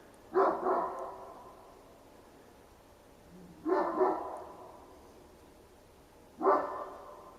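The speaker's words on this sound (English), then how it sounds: "Very annoying to be greeted by this very loud barking" Dogs bark loudly in three spaced bursts a few seconds apart, each a cluster of sharp barks heard from some distance, with no talk.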